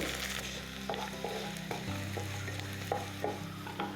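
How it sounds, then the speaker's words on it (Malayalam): Garlic frying in a pan gives a steady sizzle with a low hum beneath it, while a spoon scrapes and taps the pan in short, regular strokes as the garlic is stirred. "വെളുത്തുള്ളി ഇട്ടിട്ട് നല്ലോണം ഒന്ന് ഇളക്കണം."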